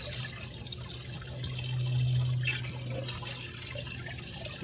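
A pump sends water into a pond in a forest zoo enclosure, a steady running, trickling flow with a low hum that swells slightly in the middle, continuous and fairly close.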